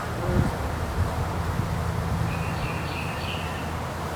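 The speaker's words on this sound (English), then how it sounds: "Look at these bees," A dense, steady buzzing of many honeybees in a hive fills the clip, close and continuous, with faint higher tones drifting above the drone.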